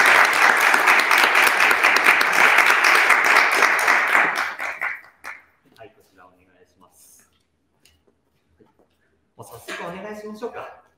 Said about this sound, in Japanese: 大きな拍手で。